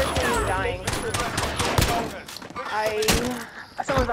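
Rapid bursts of automatic gunfire and single shots ring out in an online shooter game, sharp cracks scattered across the scene while players talk excitedly over them.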